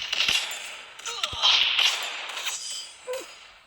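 Sharp gunshots and snapping impacts ring out in a shooting video game round, a few spaced shots over roughly four seconds with some brief swooshing effects between them.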